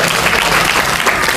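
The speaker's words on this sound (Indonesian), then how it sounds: "kita kasih tepuk tangan aplaus untuk Fatir." Audience applause at a morning motivational religious talk, a steady, loud burst of clapping from a gathered crowd, brief and continuous with no voices over it.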